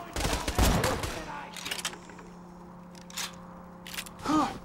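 Rapid shots fired at enemies in Borderlands 2, a dense volley at the start followed by scattered sharper reports, with someone talking over the fighting.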